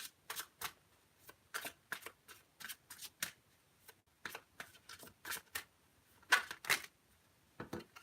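Tarot cards shuffled at bedtime, giving a steady run of crisp riffling bursts with short pauses between them, close and fairly quiet with no talking.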